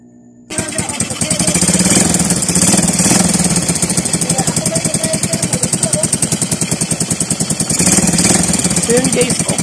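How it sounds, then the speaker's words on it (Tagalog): Suzuki Smash 115 motorcycle engine starting and then idling steadily with its muffler fitted, a close, loud, even rhythmic chug with some clatter, running alone after a brief quiet start. "Ito naman tunog ng kanyang makina guys pagkatapos ating may kabit ang kanyang muffler."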